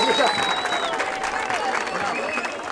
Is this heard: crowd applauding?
yes